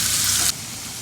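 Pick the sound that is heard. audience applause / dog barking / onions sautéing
onions sautéing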